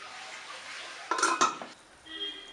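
A metal lid clanks onto a cooking pot with two quick bright clinks, near and distinct, followed by a faint ringing and quiet kitchen hiss, no voices.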